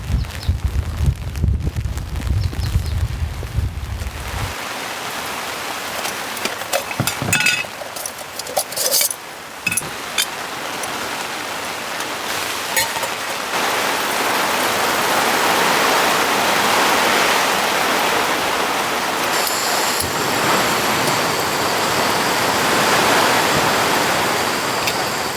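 Heavy rain and strong wind beat against a tent during a camping storm, a dense, steady roar that starts with a low rumble and builds louder over the span, with no speech.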